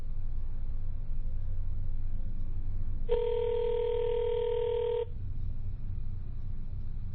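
A single two-second ring tone from an unanswered landline sounds through the earpiece, set against a steady low hiss and rumble on the line.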